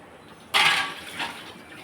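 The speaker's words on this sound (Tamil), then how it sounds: "ஜாரை கழுவிட்டு அந்த தண்ணியை கொஞ்சம் சேர்த்துக்கலாம்." Water poured from a rinsed grinder jar into tempered ridge gourd peel chutney, a brief splashing pour that starts abruptly and fades within a second or so.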